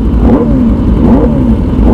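A motorcycle engine revving repeatedly in short throttle blips, close and loud, the pitch rising and falling in waves with no speech over it.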